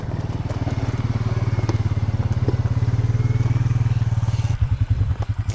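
A diesel 830 antique tractor idles nearby at a tractor show, its engine chugging in a steady, rapid thump that stutters near the end.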